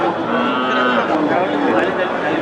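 A cow lowing at a Qurbani cattle market, a sustained moo heard close amid the murmur of the crowd.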